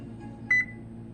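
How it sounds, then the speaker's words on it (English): A kitchen oven's control panel gives two quick, close electronic beeps as it is being set to 350, standing out briefly over a low background hum. "Now turn on your oven,"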